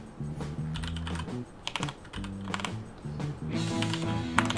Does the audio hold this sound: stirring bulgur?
no